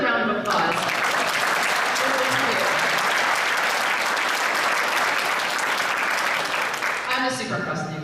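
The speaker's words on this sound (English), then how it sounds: "let's hear another round of applause" An audience at a leadership talk breaks into a sustained round of applause, steady and full for several seconds before cutting off, with brief voices at the start and finish.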